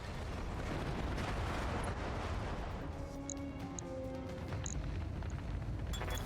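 Mech weapons firing in the BattleTech strategy game: a dense, roaring barrage of blasts and rumbling impacts fills the opening seconds, then eases into lighter crackles and tonal hums.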